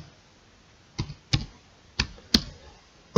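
A password typed on a computer keyboard, five distinct key clicks spaced irregularly over quiet, close and crisp.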